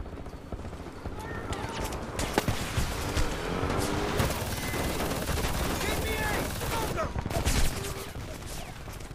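Sustained automatic gunfire and explosions in a Homefront multiplayer match on PS3, loud and continuous for most of the clip, with voices talking over the shooting.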